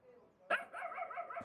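A small puppy barks in a short burst of high, yappy barks, close and loud, at a house in a village near Kullu Manali.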